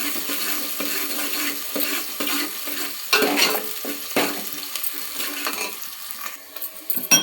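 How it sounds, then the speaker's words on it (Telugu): Green chillies and sliced onions frying in a hot pan while being stirred, a continuous close sizzle with scraping and clinking of the spoon against the pan, with no voices. "మా పచ్చిమిర్చి చూడండి రౌండ్ కట్ చేసుకున్నా, ఆనియన్స్ వేసేసుకున్నా, కలుపుకోవాలి"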